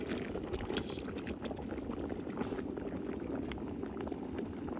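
Rice boiling in a pot of water at an outdoor picnic, a steady, dense bubbling and churning that holds constant throughout with no pauses.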